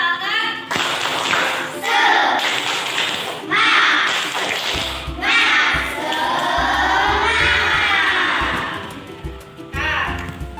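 A class of schoolchildren performs a 'tepuk semangat' clapping cheer, a run of loud group clap bursts mixed with children's chanting voices that keeps going for about ten seconds in a classroom.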